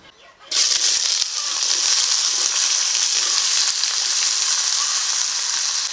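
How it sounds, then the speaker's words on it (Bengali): Eggplant slices dropped into hot mustard oil in a kadai burst into a loud, close sizzle after a short quiet start, then keep up a dense, steady frying hiss to the end. "এই তেলে বেগুনগুলোকে ভেজে নেব"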